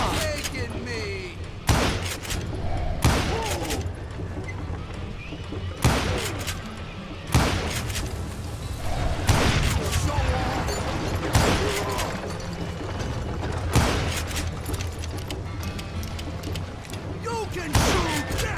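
Shootout gunfire in the Wild West game Call of Juarez: Gunslinger: loud, sharp revolver and rifle shots crack out singly and in quick bursts at irregular intervals over a rumbling background, with voices occasionally heard between the shots.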